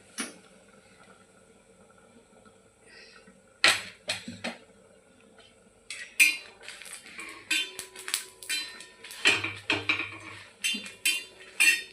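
Green chillies roasting in a pan over low gas for a black chicken masala, with scattered metallic clinks and scrapes of a utensil against the pan growing busier after a quiet start.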